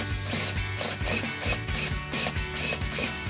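Step drill bit boring a hole through a 2010-2014 Mustang rear decklid for a spoiler install, a rhythmic grinding and rasping in repeated short bursts, close and fairly loud.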